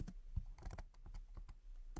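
Keys tapped on a computer keyboard while a prompt is typed, a quick irregular run of close, soft clicks with short pauses between bursts.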